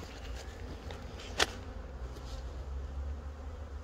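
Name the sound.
honeybees buzzing around hive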